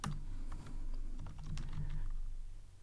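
Kotlin code being typed on a computer keyboard: a quick, uneven run of close, fairly soft key clicks with short pauses between bursts.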